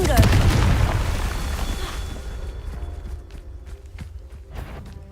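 A Confringo spell blast bursts loudly in the Hogwarts Legacy video game, a heavy booming explosion up front that fades into scattered rumbling and sharp impacts, with a voice heard among the effects.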